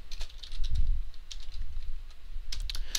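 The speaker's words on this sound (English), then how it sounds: "So I'm going to type in how many fingers do you have." Fingers tapping on a computer keyboard while entering a message into a Java programming dialog, a close series of quick uneven clicks with brief pauses, no talking.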